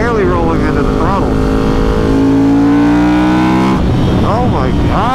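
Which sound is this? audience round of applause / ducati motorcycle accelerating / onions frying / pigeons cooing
ducati motorcycle accelerating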